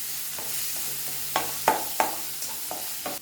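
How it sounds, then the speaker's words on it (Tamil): Coriander powder and chicken masala sautéing in a pan, a soft background sizzle punctuated by several sharp scrapes and clacks of a spatula stirring, close and clear. "இப்போ இது எல்லாத்தையும் சேர்த்து நல்லா வதக்கிக்கலாம்"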